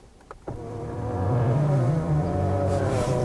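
A power seat motor in a 2015 Kia K900 whirs with a low, droning hum after a couple of clicks, the pitch wavering slightly as the seat reclines.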